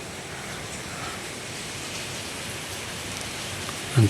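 A very large waterfall near a village temple rushes in a steady, broad wash of roaring water noise, even and unbroken, with no voices over it.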